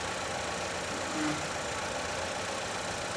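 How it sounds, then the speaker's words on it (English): The engine of a Chevrolet Equinox with an intermittent power-loss fault idles with a steady, even hum and a faint rough vibration, one brief swell partway through, no talking. "The engine is shaking a little bit."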